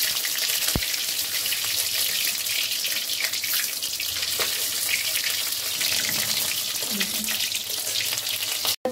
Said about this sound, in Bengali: এই যে কড়াইয়ে সয়াবিনগুলো দিয়ে দিয়েছি,